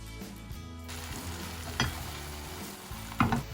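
An egg roll fries in a pan with a steady sizzle and crackle. Two louder bursts of spatter and stirring rise near the middle and end, and no one speaks.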